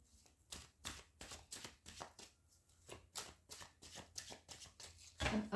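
Tarot cards shuffled by hand in a steady run of soft riffling bursts, close and fairly quiet, with a louder burst at the end.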